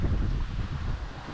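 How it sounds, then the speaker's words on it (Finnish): Steady low wind roaring and buffeting across the microphone aboard a sailing yacht at sea, fairly loud and continuous with no other clear sounds. "Pikkasen lisäsi tuulta myöskin."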